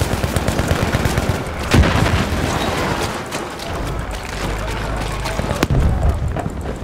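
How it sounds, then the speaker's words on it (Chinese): Gunfire and a blast from an explosive set off against a friendly tank in the video game Battlefield V, with a dense wash of battle noise and two sharp, booming bursts standing out. "我炸队友坦克了！"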